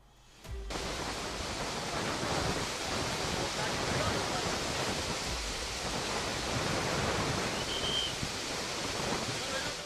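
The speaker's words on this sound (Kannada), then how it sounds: "ಹಲ್ನೊರೆಯಂತೆ ಉಕ್ಕಿ ಹರಿಯುತ್ತಿದೆ ಕಲ್ಲು ಬಂಡೆಗಳನ್ನು ಸೀಳಿ ಮುನ್ನುಗ್ತಿದೆ ಜಲಪಾತದ ಈ ರುದ್ರರಮಣೀಯ ದೃಶ್ಯಕ್ಕೆ ಪ್ರವಾಸಿಗರು ಬೆರಗಾಗಿದ್ದಾರೆ" A swollen waterfall in Karnataka during heavy monsoon rain, foaming and gushing over rocks, gives a loud, steady broadband roar that starts abruptly and holds constant without pause.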